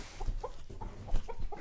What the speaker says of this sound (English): And we still have Larry the rooster